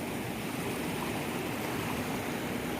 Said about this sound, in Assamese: সুত চাওক কেনেকৈ পৰি আছে ধম ধম।